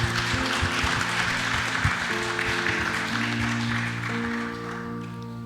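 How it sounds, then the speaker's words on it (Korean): Applause from a congregation at a Friday evening church prayer service, steady broadband clapping filling the room with sustained organ or keyboard tones underneath, tapering slightly toward the end. "우리 하나님께 영광의 박수 한번 돌리도록 하겠습니다."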